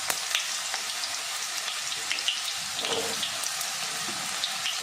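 Chopped onion frying in hot sesame oil gives a dense, constant hiss and crackle close by, with a few small pops, no voices.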